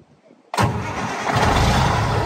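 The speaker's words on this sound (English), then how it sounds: "Let's just start." A Detroit 60 Series 12.7-litre diesel in a Freightliner truck cranks and fires after a short quiet pause, then settles into a loud, rough, close idle that swells slightly as it steadies.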